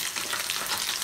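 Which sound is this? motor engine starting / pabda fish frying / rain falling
pabda fish frying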